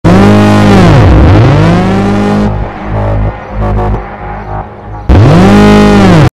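Car being started and moved out after sitting unused for 10-12 days, with loud close engine revving that swoops down and up in pitch, drops to a rough idle with knocks, then surges again to a strong rev.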